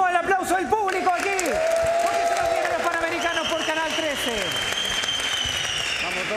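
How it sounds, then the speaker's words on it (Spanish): Spectators applauding at a volleyball exhibition, crowd clapping beneath loud overlapping whistles and squeaky sliding tones, with voices mixed in the busy courtside din. "¡Vamos, el aplauso del público aquí!"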